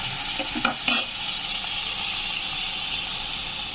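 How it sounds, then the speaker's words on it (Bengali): Potatoes fry in a pan with a few clattering stirs at first, then settle into an even, close hissing sizzle with no voices. "এবার এই আলুটা পুরো ভেজে তারপরে আপনাদের কাছে ফিরে আসছি"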